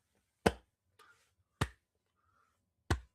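Three sharp, crisp claps ring out in unison with roughly one-second gaps, the coordinated clapping of a North Korean group, with a faint softer rustle between the first two.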